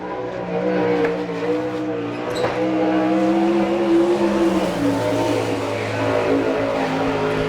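Sprint race car on a qualifying lap at Chillicothe, Ohio, with a Maxim chassis and a Fisher racing engine: a loud, steady, droning engine roar with shifting pitch as the car speeds around the track.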